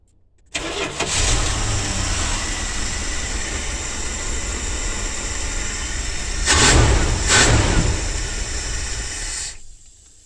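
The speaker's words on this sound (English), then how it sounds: "I had that little hesitation when I went to crank it." Dodge 360 V8 fitted with new plug wires cranks, catches and settles into a loud, close, steady idle with two brief revs, then shuts off near the end; no voices.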